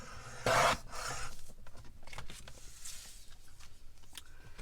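A paper trimmer slicing through a card, a loud close scraping swipe near the start followed by softer rustling, sliding and handling sounds of the card and trimmer, with no talk.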